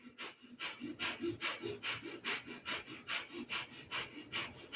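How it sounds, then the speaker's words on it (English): Breath of fire yoga breathing: a quick, steady run of forceful nasal exhalations, about three per second, soft and close with no talking. "begin your breath of fire"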